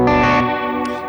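A sustained electric guitar chord played through a Coffee Shop Pedals Cortado stereo reverb pedal with the highs cut rings out with a dark, muffled tone and a reverberant tail that slowly decays.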